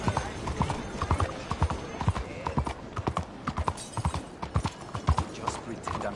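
A horse in Red Dead Redemption 2 trots with steady, close clip-clop hoofbeats across the whole stretch, with a voice briefly heard over the rhythm.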